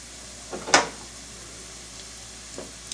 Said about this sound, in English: It's got that nice low sizzle.